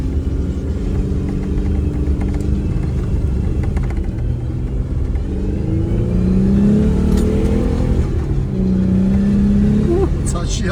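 A car on a muddy off-road club route rumbles steadily and builds to a louder revving push, with people talking over the engine throughout.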